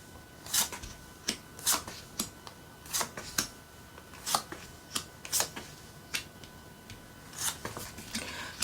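A deck of tarot cards is shuffled for a reading, giving crisp, close snapping riffles that repeat roughly every half second in an uneven rhythm, with no voice.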